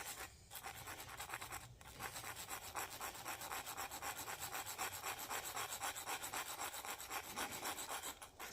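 Steady rasping of a cylindrical file worked by hand against a sand-crusted cast metal gas pump part, with close, continuous strokes and no talking.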